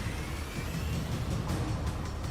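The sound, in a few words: truck driving in Mass Effect 2 video game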